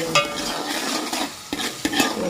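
Gravy with chillies roasting in a pan, a soft continuous sizzle broken by a few sharp spoon scrapes and clicks against the pan, close up.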